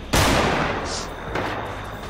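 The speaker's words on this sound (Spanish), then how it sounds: "¿Te están disparando?" Gunfire in Fortnite, one loud sharp shot with a long rumbling tail, then a second softer report about a second later, close and dominant over the game background.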